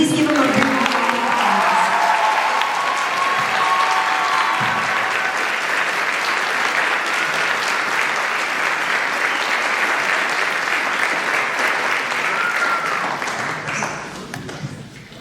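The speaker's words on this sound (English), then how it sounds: "Would you please give him a big round of applause?" A concert audience at a school wind ensemble performance gives a sustained, loud round of applause for the Director of Bands, steady for over ten seconds before thinning out and fading at the end.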